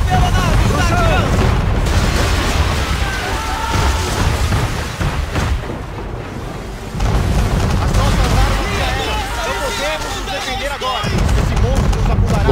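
Cannon fire from an enemy ship during a naval battle in Assassin's Creed III, heavy booming blasts rolling over a loud battle din, with shouting voices mixed in.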